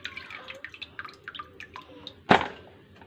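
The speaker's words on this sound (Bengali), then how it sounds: "এই যে আমি জলটা পুরো ঝরিয়ে নেব আলুর।" Water dripping and trickling from washed potatoes as they drain, a scatter of close, light drips ending in one louder splash, quiet and alone.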